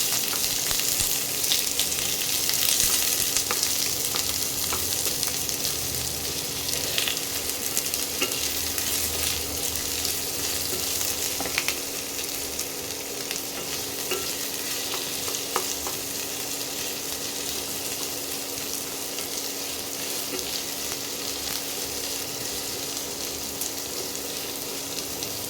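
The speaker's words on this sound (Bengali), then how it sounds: "এবার পেঁয়াজগুলোকে সামান্য একটু ভেজে নেব।" Chopped onions fry in a pan for keema ghugni, giving an even, close, unbroken sizzle that holds steady throughout.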